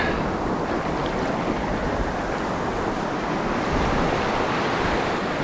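Sea surf washing steadily over a sandbar on an open UK beach at night, a continuous close roar of breaking waves with wind buffeting the microphone throughout, no voices.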